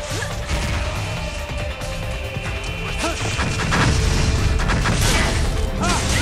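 A boss fires rockets in the No More Heroes action game, a jumble of loud crashes, booms and whooshing blasts that build over several seconds beneath busy game noise and music.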